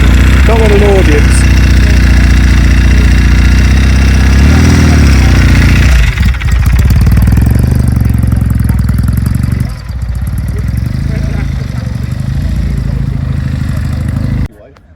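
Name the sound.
vintage British motorcycle engine running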